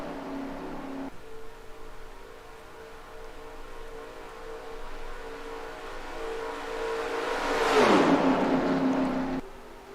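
Stock cars racing in NASCAR Racing 2003 during a Daytona 500 qualifying duel, with a sustained engine whine and a loud car sweeping past near the end in a rising then falling Doppler roar.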